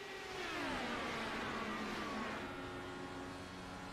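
Racing engines in an Indianapolis 500 video game race, held in sixth gear around the oval: a continuous high, buzzing whine with several engine tones sweeping downward as cars pass, fairly steady in loudness.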